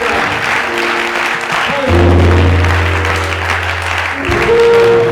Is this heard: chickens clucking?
no